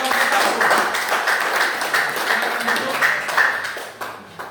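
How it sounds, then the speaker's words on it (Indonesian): Classroom applause for a student group that has just presented its caricature drawing, a dense continuous patter of many hands clapping at steady loudness for several seconds, tapering slightly near the end. "Ya, tepuk tangan buat kelompok"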